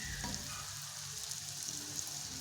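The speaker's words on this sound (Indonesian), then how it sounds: "Kalem-kalem iki gorengnya dengan api yang kecil." Dry spring rolls fry gently in oil over low heat, giving a soft, steady sizzle with faint bubbling and occasional light pops, close by and uninterrupted.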